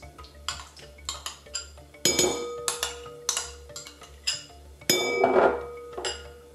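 A utensil clinks and scrapes against a bowl while mayonnaise sauce for coleslaw is mixed, irregular sharp taps and rattles in uneven bursts, fairly close and without talk.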